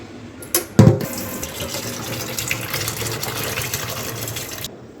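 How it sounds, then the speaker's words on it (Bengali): Tap water runs steadily into a kitchen sink while mutton and tangra fish are washed, with a brief louder splash near the start and a continuous close gushing flow until it stops near the end. "আমি এখন ধোবো, মাটনটাও ধোবো,"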